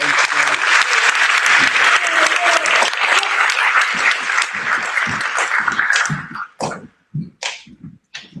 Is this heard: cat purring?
no